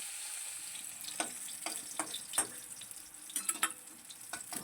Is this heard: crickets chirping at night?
no